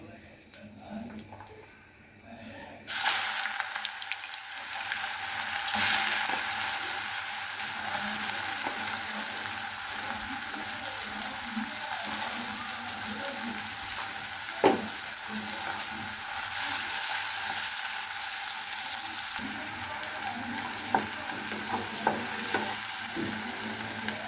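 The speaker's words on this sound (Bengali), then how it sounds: "পেঁয়াজটা আমি ভালোভাবে ভেজে নেব।" Onion frying in oil with whole cumin seeds: after a few quiet seconds a loud, steady sizzle bursts in close by and holds, with an occasional clink of a utensil in the pan.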